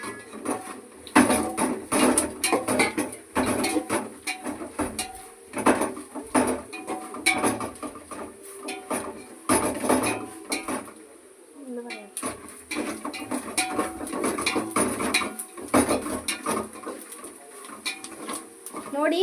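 Spices are stirred and tossed in a pan for restaurant-style vegetable noodles, with repeated close clinks and scrapes of utensil against metal in an uneven rhythm, a voice talking intermittently over the cooking sounds.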